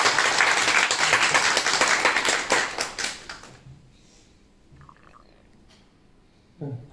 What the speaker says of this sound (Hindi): थोड़ा जोर से तालियां